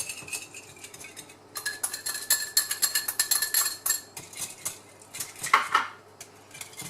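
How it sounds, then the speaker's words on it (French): A whisk beats crème fraîche with nutmeg, lardons and gruyère in a bowl for a quiche lorraine, giving a quick run of close metallic clicks and scrapes against the bowl that rises to steady rhythmic strokes. "Je fouette bien."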